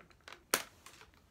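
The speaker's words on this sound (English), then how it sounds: "Let me grab the scissors to cut the part." Scissors snip through the plastic packaging of a My Little Pony toy in a few quick, close, crisp cuts, one louder than the rest, with light crinkling around them.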